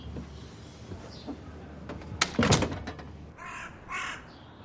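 Crows caw a few times, harsh rasping calls in short bursts, with a louder cluster midway and two more calls near the end, heard outdoors with no talking.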